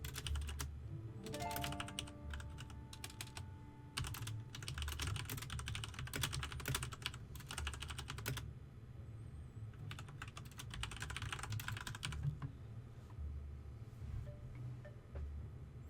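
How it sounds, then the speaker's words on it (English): Quick keystrokes patter on a computer keyboard in uneven bursts with short pauses, faint and close, over a quiet steady background hum. No one speaks. "Wow, I really can't type today."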